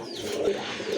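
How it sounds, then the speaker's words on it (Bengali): Pigeons coo softly and continuously in a pen where white Lotan pigeons with feathered feet are kept, a steady low murmuring throughout with no voices. "মাশাল্লাহ আরেক জোড়া কবুতর"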